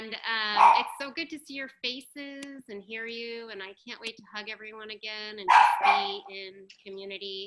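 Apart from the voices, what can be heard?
dog barking in the background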